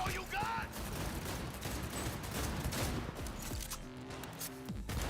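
Gunfire in the video game Cyberpunk 2077: rapid bursts of shots over a dense, busy game mix, continuous across the clip at moderate level, with no voice over them.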